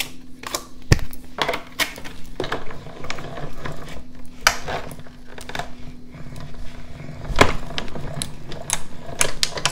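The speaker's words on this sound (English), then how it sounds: "get the Stampin' Cut and Emboss machine" A Stampin' Cut and Emboss die-cutting machine is hand-cranked to cut black card stock with a die, giving a close series of ratcheting clicks and gear turns with irregular sharp snaps and no talk.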